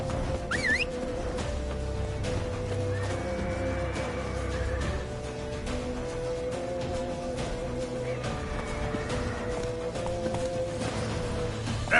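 Roach, a horse in The Witcher 3, gallops with a steady rhythmic clip-clop of hooves that runs throughout over a dense, busy game soundscape, with a brief whinny-like sound near the start.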